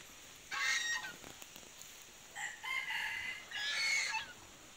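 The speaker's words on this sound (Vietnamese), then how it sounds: "Con gà rừng kia." Jungle fowl at a small household poultry farm crow and cluck in several harsh, strained bursts, moderately distant and outdoors, with no talking over them.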